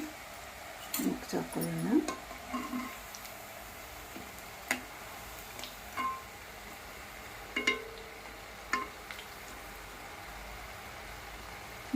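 Tengolu, a snack made with home-grown rice, fries in hot oil in a pan, giving a faint, continuous sizzle broken by scattered soft pops and crackles, with occasional utensil taps.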